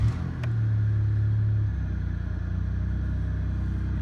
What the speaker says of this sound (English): Let's see if the cables gods are nice to us and starts the car again.